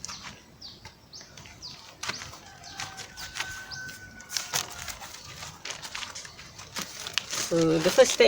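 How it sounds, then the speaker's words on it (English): Old newspaper is crinkled and folded by hand to line a plant pot, giving close, irregular rustling and crumpling that grows louder toward the end, with faint birdsong outdoors. "We just fold this old newspaper and put inside like this"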